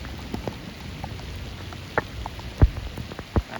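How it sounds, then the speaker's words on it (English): Rain falling over a flooded road during a storm, a soft steady patter with scattered louder drops and splashes close by, faint overall and without speech. "And it's raining, and I'm wet now."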